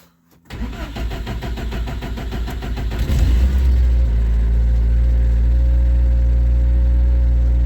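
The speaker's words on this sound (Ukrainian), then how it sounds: "цю автівку буду запускати, пробувати" A car engine cranks and catches after a moment, then settles into a loud, steady running drone close by, with no talking.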